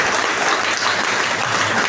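A seminar crowd in an air-conditioned hall claps together in a short, dense, loud burst of applause that holds steady.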